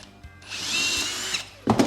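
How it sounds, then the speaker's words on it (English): A power drill whirs steadily at high speed for about a second while pre-drilling a pilot hole, then stops with a clunk and a short rattle. "get another drill and just essentially pre-drill your little pilot hole"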